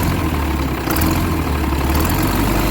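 A dually truck engine runs steadily with a thin, tinny metallic edge over a deep low-frequency drone, loud and close, with a brief rise in high buzz midway.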